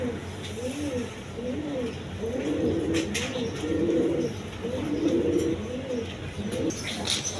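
Red Gola pigeons coo in repeated soft, throaty phrases, close and clear, while someone talks over them in the background.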